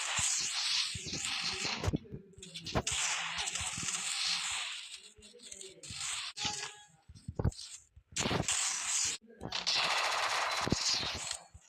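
In the video game Free Fire, an M1887 shotgun fires in sharp bursts of gunfire separated by short quiet gaps. The shots are loud and close, with clicking handling sounds in between.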